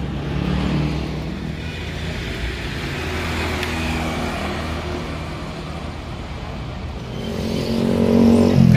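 A night bus rolls through the Palimanan three-way junction on the route toward Jakarta, a low engine rumble and road roar that stays steady, then swells louder near the end as it draws close. Other traffic hums in the background.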